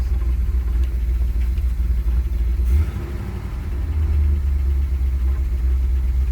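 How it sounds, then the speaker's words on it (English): A 1977 Pontiac Trans Am engine idles steadily with a low, continuous rumble and a faint rapid lifter tick riding on top, close by with no voices. "Yeah, that sounds like a lifter to me."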